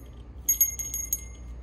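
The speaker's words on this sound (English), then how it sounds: "Here's a little bell." A small Christmas ornament bell rings in a few quick, light tinkles, bright and close, then fades over a low background hum.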